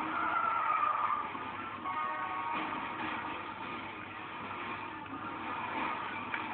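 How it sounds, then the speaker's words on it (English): A PS2 racing video game plays continuous engine drone with skidding and tire squeals as cars crash, a steady, band-limited game mix with no talk. "in case you're wondering why I'm crashing into cars, you get points when you do so in this game"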